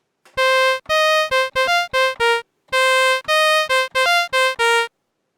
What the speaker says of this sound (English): Trumpet.